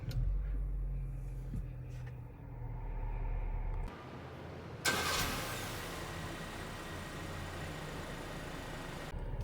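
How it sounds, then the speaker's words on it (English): A 2024 MG One 1.5 CVT engine cranks and catches after a beep from the push-button start, then settles into a steady low idle, heard close from inside the car. "just put your foot in the brake and push the button to start"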